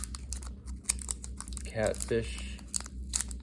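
Hands tear open a Pokémon booster pack (Shrouded Fable), crinkly foil rustling and short ripping bursts at close range, with a person speaking briefly between the tears.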